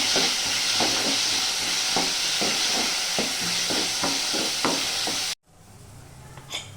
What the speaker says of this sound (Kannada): ಗೋಲ್ಡನ್ ಬ್ರೌನ್ ಆಗೋವರೆಗೂ ನೀಟಾಗಿ ಫ್ರೈ ಮಾಡ್ಕೋಬೇಕಾಗುತ್ತೆ